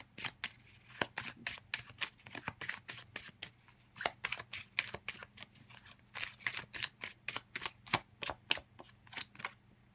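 Playing cards are shuffled in rapid riffle bursts during a tarot reading, a dense run of sharp flicking snaps that keeps going for the whole stretch with short pauses, close and clear with no talking.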